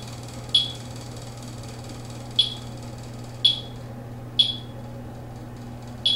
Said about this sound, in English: Steady beep from the reader